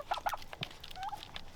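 Turkeys pecking at a feeder, with a few quick sharp taps and short rustling bursts close by, plus a faint soft bird call partway through and no voices.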